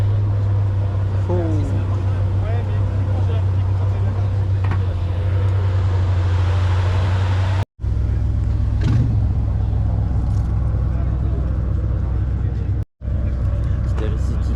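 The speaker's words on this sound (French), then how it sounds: "petite RS6 qui vient d'arriver avec la Ferrari qui est en train de se garer" An Audi RS6 on ABT wheels and a Ferrari pull in and park at a car meet, with a steady low engine rumble close by and idling throughout, under ongoing crowd talk, cut by two brief gaps.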